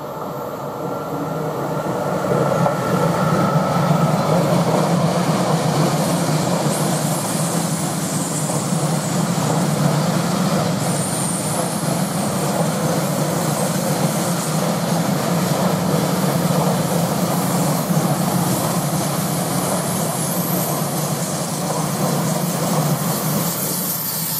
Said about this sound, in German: während der Zug hier angerollt kommt